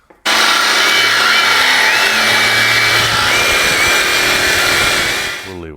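A Sawzall reciprocating saw cuts through a metal disc while building a counterweight for a 1956 crane, a loud continuous grinding rasp with a wavering high whine, running steadily for about five seconds before cutting off.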